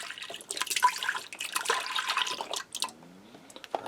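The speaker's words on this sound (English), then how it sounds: "I'm going to start out by adding in 2 cups of beef broth" Beef broth poured from a carton into a pressure cooker, a steady close splashing stream with drips and a few sloshing bursts, easing into a thinner trickle near the end.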